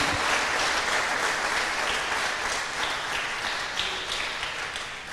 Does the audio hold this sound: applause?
yes